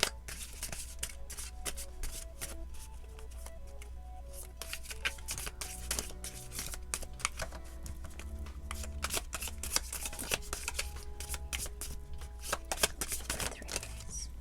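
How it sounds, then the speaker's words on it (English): Rapid, steady riffling of a deck of tarot cards being shuffled close up, with soft melodic music playing underneath throughout. "So I am going to shuffle to get messages from each group"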